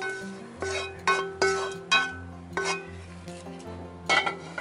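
Stir-fried anchovies scraped from a frying pan onto a ceramic dish, giving a run of close clinks and dull knocks of utensil on porcelain, several in quick succession with a faint ringing tone underneath.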